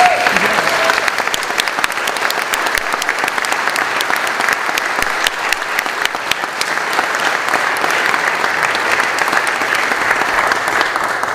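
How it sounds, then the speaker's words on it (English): Sustained audience applause for a community band after a concert, dense steady clapping from a full hall that carries on at even strength throughout. "So why don't you give them another round of applause."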